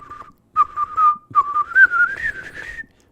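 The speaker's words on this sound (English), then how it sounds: "the whistle when they're in the shrinking room." Whistled melody from the shrinking room scene in the Willy Wonka film: a short note, a pause, then a clear, close run of notes rising slightly in pitch before stopping.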